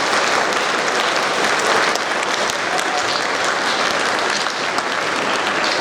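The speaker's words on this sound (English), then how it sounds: "I want to give one more round of applause to all the recipients and to our amazing chorus" Sustained, loud audience applause fills the room at an 8th grade school awards ceremony, a dense steady roar of many hands clapping without pause.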